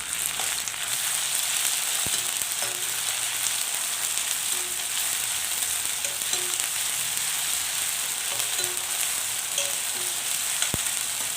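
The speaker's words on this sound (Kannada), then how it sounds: "ಇವಾಗ ಇದಕ್ಕೆ ನಾನು ಜಿಂಜರ್ ಗಾರ್ಲಿಕ್ ಪೇಸ್ಟ್ ಏನು ಎತ್ತಿಟ್ಕೊಂಡಿದ್ದೀನೋ ಅದನ್ನ ಹಾಕ್ತಾಯಿದ್ದೀನಿ." Ginger garlic paste added to fried onions for spicy chicken fry, sizzling loudly and steadily in the pan with a few light spoon taps and clinks.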